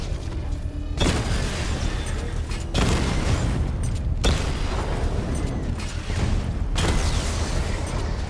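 Explosions from a direct hit in the Batman: Arkham Knight video game, loud booming blasts recurring at intervals over a dense, continuous roar of combat noise.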